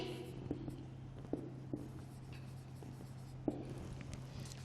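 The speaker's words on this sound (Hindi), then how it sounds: "तो हम एक्सप्लेनेशन लिख लेते हैं इनका" Chalk or pen writing during a classroom lecture makes faint, close scratching strokes with a few sharper taps, over a steady low electrical hum and no speech.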